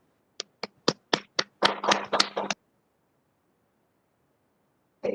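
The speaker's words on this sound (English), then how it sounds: "We give big applause to Dr. Mimba." A handful of separate handclaps for a speaker at an online international webinar: about six spaced claps, then a short denser burst of clapping, followed by silence and one last clap near the end.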